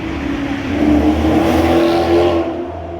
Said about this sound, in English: Maserati GT.